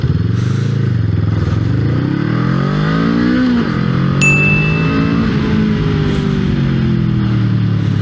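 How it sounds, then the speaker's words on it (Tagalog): A Honda Rebel 500 motorcycle accelerating hard from a standstill to 60, the engine rising through several gears with rev drops between shifts, loud and close with steady wind and road noise. "Ngayon naman susubukan naman natin yung acceleration test niya from 0 to 60 lang guys."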